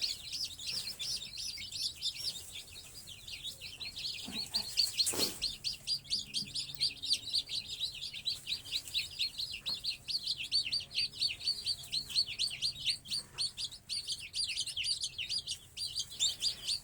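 Baby chicks in a coop chirp continuously in rapid, high-pitched peeps at close range, with a soft thump partway through and a low background murmur.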